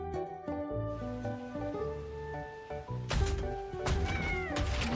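A cat in Wuthering Waves lets out drawn-out, wavering meows and a caterwauling yowl, close and clear over soft game music, with no one talking.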